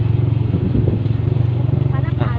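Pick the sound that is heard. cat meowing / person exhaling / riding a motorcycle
riding a motorcycle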